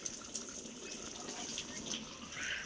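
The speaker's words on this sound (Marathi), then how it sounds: "जरा असं पाणी मारत राहिले बघ." Water sprays steadily from a hose onto a car being washed, a continuous hissing gush at close range with slight surges and no talk over it.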